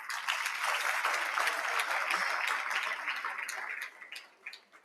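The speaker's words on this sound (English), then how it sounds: "A round of applause." Audience applause at an awards ceremony rings out as a sustained crowd of clapping hands, then thins into scattered claps and fades toward the end.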